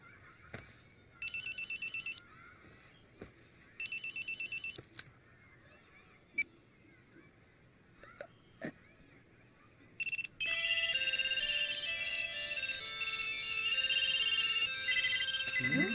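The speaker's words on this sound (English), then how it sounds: "Didn't I tell you that you have to turn off your cell phones during the class time?" A cell phone ringtone goes off in a classroom, starting with two short electronic bursts amid faint clicks and rustles, then breaking into a loud, sustained melodic ring that continues to the end.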